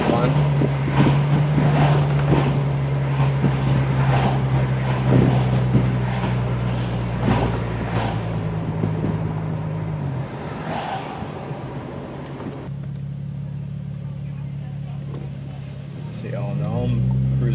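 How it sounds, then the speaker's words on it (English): An Infiniti G35X with custom modifications cruises along with a steady engine drone and wind rush that ease off and drop partway through as the car slows, while someone talks over the noise from inside. "See, all know I'm cruising around in a Infiniti G35."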